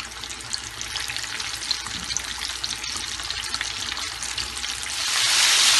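Chicken popcorn frying in a pan over medium-low heat, a steady, close hiss of bubbling oil that swells louder and brighter at the end, no talking.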